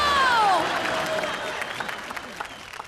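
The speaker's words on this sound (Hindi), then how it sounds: "ठोको ताली ठोको ठोको" Audience clapping at a Christmas-special comedy show, a short burst of applause with cheers and a whistle that quickly fades to scattered claps.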